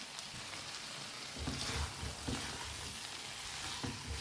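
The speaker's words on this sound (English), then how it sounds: "Toss to mix with the masala and the peas." Potatoes and peas sizzle in a kadhai as they are tossed with masala, a close crackling fry punctuated by a few soft stirring scrapes and thumps.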